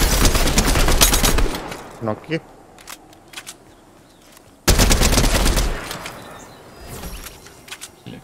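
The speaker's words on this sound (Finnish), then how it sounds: "Mä ammutan." Fortnite gunfire rattles in two loud bursts of rapid automatic shots, with scattered single cracks between them, while a player speaks briefly.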